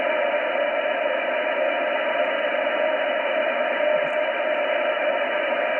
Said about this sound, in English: Very low signal, but I can hear him.